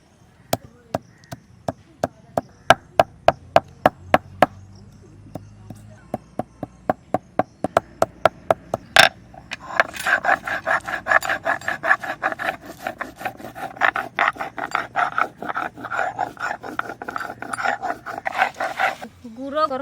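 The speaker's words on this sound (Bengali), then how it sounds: "গরম মশলাটা একটু বেটে নিই, এলাচ, দারচিনি, লবঙ্গ একসঙ্গে বেটে নেব।" Cardamom, cinnamon and cloves are worked on a grinding stone for egg curry. First come a steady series of sharp knocks, then continuous rhythmic rubbing and scraping close by.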